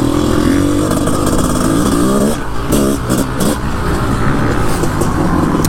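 A 500CR motorcycle engine revving hard and accelerating, a loud, close, rising and falling drone with brief dips between throttle bursts.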